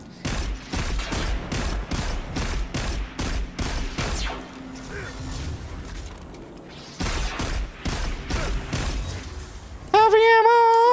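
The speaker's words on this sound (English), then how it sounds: "I'll just snipe you from back here." Sniper rifle shots in the video game Destiny 2, a rapid series of loud, punchy reports in two bursts separated by a quieter stretch, ending in a tonal game sound.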